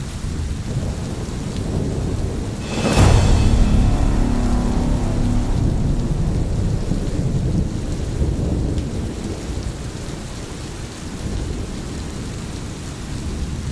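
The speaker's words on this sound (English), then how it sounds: "the sound of a chilling horror story with soft rumbling rain and thunder" A thunderclap cracks loudly near three seconds in and rolls off into a long low rumble over steady, soft rain falling throughout.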